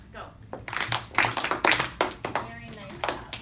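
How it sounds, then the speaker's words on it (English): A first-grade class claps in unison, sharp close claps in a rough rhythm in a classroom, with children's voices around them. "3 claps. Go."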